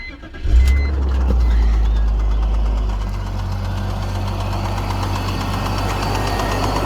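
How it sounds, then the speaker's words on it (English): A 2002 BMW 325i cranks and catches, then settles into a steady, rumbling idle carrying a faint odd motor noise, close by with no talk. "I'm going to start the car"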